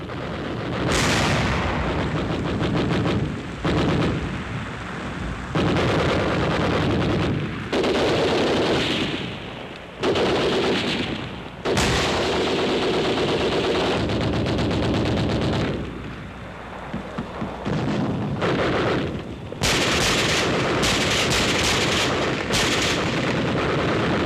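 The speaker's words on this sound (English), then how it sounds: "Infantry troops press forward, supported by intensive cover fire." Intensive gunfire and machine-gun cover fire in a WWII newsreel as infantry attack Siegfried Line fortifications, loud and sustained bursts with heavy artillery-like booms, continuous rattling volleys and brief lulls throughout.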